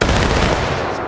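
Musket volley in a Pickett's Charge battle game event, a dense, loud crash of many shots fired at once, rolling into a brief crackling tail.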